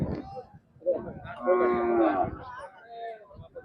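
A cow gives a short, close moo, followed by a softer, lower call as it trails off, at a cattle market in Sangola.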